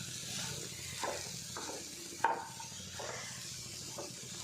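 Curry being stirred in a frying pan, with soft scraping strokes and a gentle sizzle repeating at a slow rhythm, plus one brief sharp clink of the utensil.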